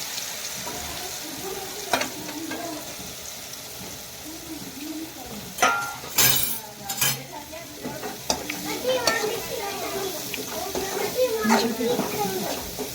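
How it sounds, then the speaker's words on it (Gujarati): Mustard seeds, cumin and asafoetida sizzle in hot oil as garlic is tempered, a steady frying hiss with sharp crackles and pops. A voice talks over it in places. "રાઈ નાખ્યું, જીરું નાખ્યું,"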